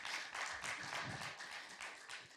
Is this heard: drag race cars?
no